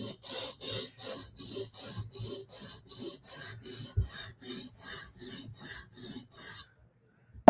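A knife drawn across a sharpening stone in even, repeated strokes, about fifteen crisp rasping scrapes in a regular rhythm, close and fairly quiet, ending in silence.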